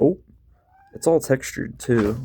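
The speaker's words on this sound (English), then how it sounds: "sorry for the cat attack there" A house cat meowing in short calls close by, mixed in with a voice talking over it.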